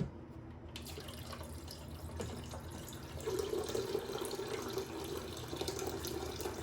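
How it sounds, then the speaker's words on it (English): Water runs from a water filter dispenser into a Nespresso machine's tank, a quiet background before a steady trickle begins and then grows fuller and more splashy as the tank fills. "Make sure you fill it with water."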